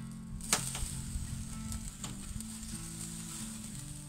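Mackerel in a fish basket sizzles steadily on a BBQ grill, a close continuous crackling hiss with a sharp clack from the basket near the start, no voices.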